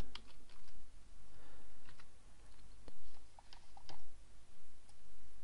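Light typing on a computer keyboard, soft irregular key clicks close by in a quiet room, with no speech.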